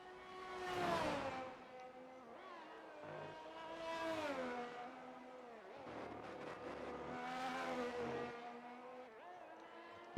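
Ferrari race car in a racing video game lapping the Texas circuit, a high engine whine rising and falling through gear changes and corners, loud and continuous with no talking.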